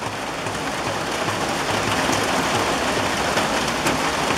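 Heavy rain pours down in Candor, New York, a dense, steady hiss of drops drumming on surfaces, close and unbroken with no voices.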